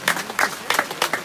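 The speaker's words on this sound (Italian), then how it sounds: "fategli un applauso" A short round of audience applause at a trout fishing prize ceremony, with a few quick, close surges of clapping.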